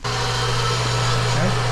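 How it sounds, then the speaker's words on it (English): A power sander whirs steadily and loudly up close on a wooden toy car cut from a 2x4, its motor holding one even drone throughout with no breaks. "I'm gonna go finish by sanding it."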